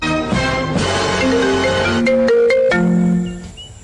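A phone ringtone plays loudly and close, a bright melodic tone pattern of stepped notes that carries on for a few seconds and then fades out.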